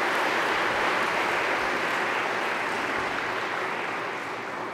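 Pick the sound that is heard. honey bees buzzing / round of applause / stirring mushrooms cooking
round of applause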